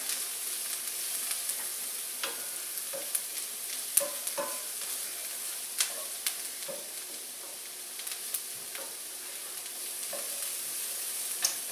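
Garlic sizzles in a pan for shrimp and bacon ramen, a soft continuous frying hiss dotted with small crackles and the occasional clink of stirring, quiet and close, with no talking.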